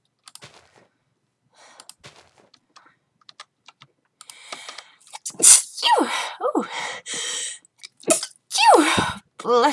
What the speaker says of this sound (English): Reminder, don't sneeze on video.